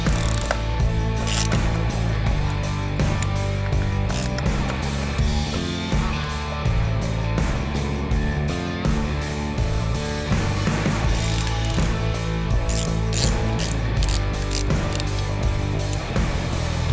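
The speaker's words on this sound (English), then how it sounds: "you'll need a 7/16 socket to pull the breather bolts out" A ratchet with a 7/16 socket works on motorcycle breather bolts during a Vance and Hines Cage Fighter install, producing steady, rapid, loud clicking close up for the whole stretch against a dense background.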